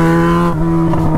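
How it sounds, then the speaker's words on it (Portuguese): Yamaha XJ6 motorcycle with an open exhaust revs hard close up, a loud rising engine howl that drops sharply partway through, with no talk. "Vou com a minha XJ6 só o cano."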